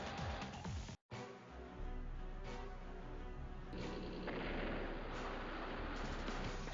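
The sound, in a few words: gunboat striking a battleship in the video game Advance Wars: Days of Ruin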